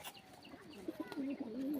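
Sick pigeons with a neck-twisting ailment coo in soft, low rolling notes up close, a few short coos building into a longer throaty phrase; no one speaks.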